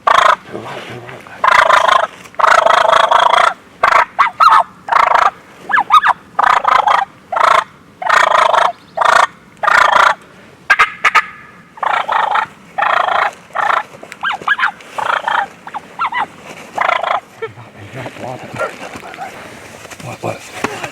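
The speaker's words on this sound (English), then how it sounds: "Fighting birds." Wild turkeys gobble in rapid, loud bursts during spring hunting, with fighting birds calling in repeated clusters over about twenty seconds, gobbles overlapping and fading toward the end.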